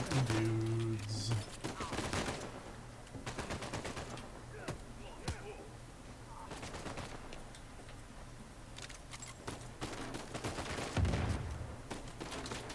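Gunfire from the video game Uncharted 4, bursts of rapid shots and scattered single cracks through most of the stretch, with a heavier thump near the end and a faint low voice underneath.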